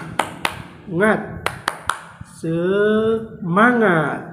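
Children in an Indonesian primary classroom perform the "tepuk semangat" clapping chant, sharp separate claps in a rhythmic pattern alternating with loud group chanting voices.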